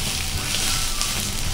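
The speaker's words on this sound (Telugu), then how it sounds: "ఎండుమిర్చి కొంచెం కలర్ మారుతుంది కదా, ఇప్పుడు దీంట్లో మనం కట్ చేసి పెట్టుకున్న అల్లం ముక్కలు వేసుకోవాలి" Dried red chilies frying in oil in a pan with ginger pieces going in, giving a steady, dense sizzle that stays close and even throughout with no speech.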